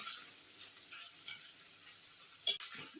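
Onion and pepper sizzle softly in a pan with a steady frying hiss, and a utensil scrapes and taps the pan once or twice while stirring.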